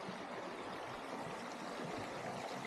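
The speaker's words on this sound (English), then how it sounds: "here you can see the trickle of water that's running down" Water trickles down a small stream in Blackdown National Park, a steady, close, continuous rush and babble with no pauses and no voices.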